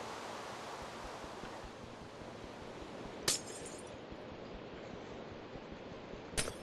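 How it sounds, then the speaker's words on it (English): Glass blocks breaking in a Minecraft FTB modpack world: two sharp, bright shattering crashes a few seconds apart, standing out over a constant, even wash of water-like ambient noise. "I want to come over here and see if we can bust out this water or this glass."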